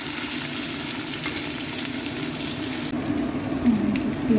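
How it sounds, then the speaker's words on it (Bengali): Onions frying in hot oil with whole garam masala give off a steady, close sizzle with a dense hiss, shifting slightly as they are stirred in the pan. "দিয়ে দিলাম পেঁয়াজটা লাল লাল করে ভাজবো।"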